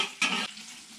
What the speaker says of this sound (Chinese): 让它慢慢煎，煎出一点油来。